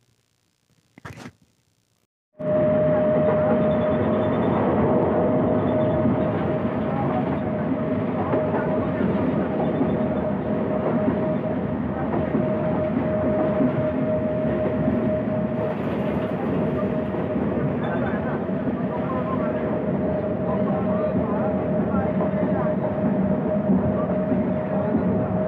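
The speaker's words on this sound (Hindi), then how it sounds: "अभी ट्रेन बाराहाट जंक्शन पहुंची है।" A train rolls into Barahat Junction station with a loud, steady rumble of wheels and carriages after a brief knock, sustaining a continuous close roar with a faint tonal whine for the rest of the stretch.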